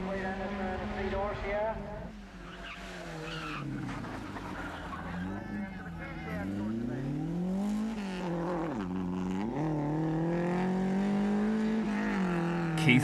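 A rally car at Lurgan Park Rally passes with its engine note climbing and falling through gear changes, moderately distant, while a voice talks over the top.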